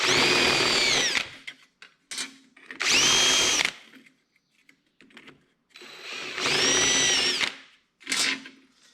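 A power drill running a step drill bit through holes in metal parts for a KRX side-by-side, with three long loud whining bursts separated by short blips and pauses, close and alone.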